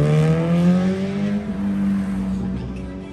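Kawasaki ZX14R motorcycle engine held at a loud, steady high idle on a test ride, its harmonics gliding slightly up and down as the throttle shifts, close and continuous throughout.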